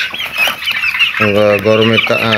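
Broiler chickens on a farm in hot weather cluck nearby, with scattered soft calls followed by a few louder, drawn-out squawking clucks in quick succession.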